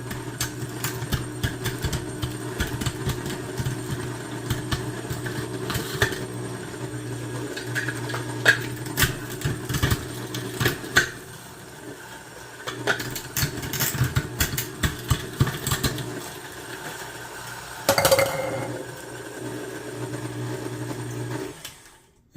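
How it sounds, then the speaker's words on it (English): A kitchen meat grinder pushing ice cubes through after ground pork, a steady mechanical motor drone with crunching, rattling bursts, running alone and fairly loud throughout. "run some ice cubes through to push your meat out"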